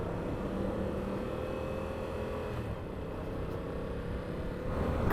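Yamaha R7 sport motorcycle cruising on a highway, a steady broadband rush of engine drone and wind noise with a low hum underneath, fairly constant in level and swelling slightly at the end.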